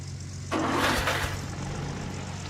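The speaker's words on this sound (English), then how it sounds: "I'm just like revving the engine horribly every time I do that" In the Gold Rush mining game, a truck engine revs up sharply after a steady low idle, then settles back into a rough, continuous running drone.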